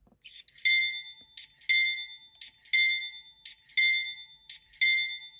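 Scale model GE C44-9W locomotive bell ringing in a steady rhythm, about five clear metallic dings a second apart, close and bright, with no talking.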